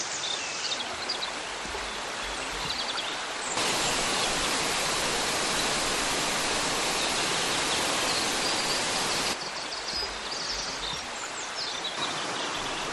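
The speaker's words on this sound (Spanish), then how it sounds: "junto al murmullo del agua." Steady murmuring river water flowing through an autumn beech forest, a continuous broadband rush that swells louder in the middle stretch and eases slightly at the ends, with no voices.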